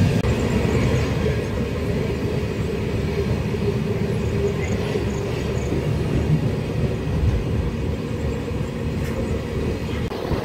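Steady, loud rumble and rattle of the Sealdah–Jalpaiguri Humsafar Express 13115 running through the night near Murshidabad, continuous and unbroken throughout, with no voices.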